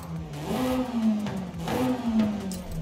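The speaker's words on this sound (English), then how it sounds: "Lots of pops, lots of bangs." Hyundai car in Forza Horizon 5, engine revving up twice in a steady rising-and-falling whine, heard alone and fairly close; distinct exhaust pops are not clearly separated.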